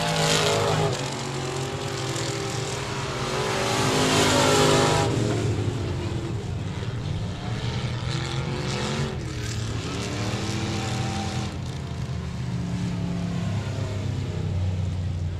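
Race cars roar around a dirt speedway track in Texarkana, a loud continuous engine drone that swells and passes, with a faint announcer voice in the background.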